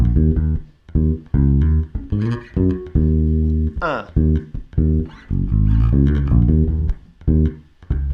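Slowed-down bass guitar lick with deep, sustained notes in a halting rhythm, recorded from a horn-backed track, loud and upfront with no talking over it.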